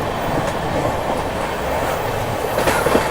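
The Rajdhani Tejas 12952 passenger train rushes through a station at full speed on the New Delhi to Mumbai route, giving a loud, continuous rumble of wheels on rails with a few faint squeals and clacks.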